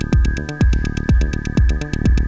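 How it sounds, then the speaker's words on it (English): Percussive music processed through the Airwindows StudioTan plugin with 8-bit truncation, a grungy, flattened beat of four or five heavy thumping hits with a steady tone running underneath, loud and with no voices. "here's what truncation does to the sound"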